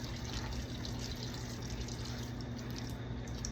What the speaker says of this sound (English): Let me go refill this one more time